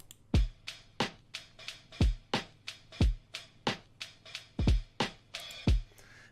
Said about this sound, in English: this pattern is the main body of the beat